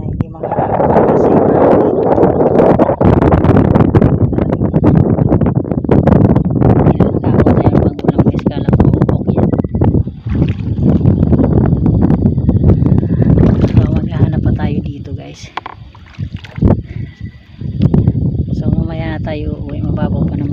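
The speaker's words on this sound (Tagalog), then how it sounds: "kaso mahangin guys" Strong wind buffets the microphone in loud, continuous gusts, easing briefly before roaring back.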